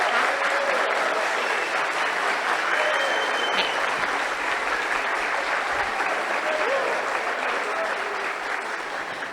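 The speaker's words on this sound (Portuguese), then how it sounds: "ela merece uma salva de palmas muito forte" A lecture audience applauds steadily for the full stretch, a dense, even wash of clapping with some faint talk mixed in underneath, heard at moderate loudness from within the room.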